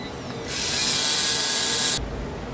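A 3Doodler 3D pen tracing plastic circles whirs with a loud, steady motor buzz for about a second and a half, close up, then cuts off to a quieter hum.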